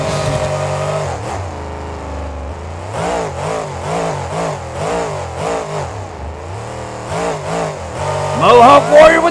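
Mohawk Warrior monster truck at a Monster Jam freestyle championship, its engine revving hard in repeated surging bursts with rising and falling pitch, loud and close, with crowd noise building near the end.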